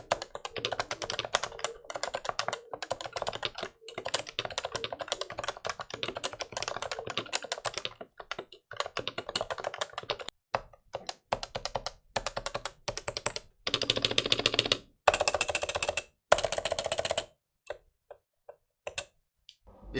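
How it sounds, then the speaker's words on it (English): Typing on a Leopold FC980C keyboard with Topre switches, a close, dense run of soft rounded keystrokes in quick irregular bursts, pausing briefly and then resuming, with no voices. "what does it actually feels like when you type on the FC980C?"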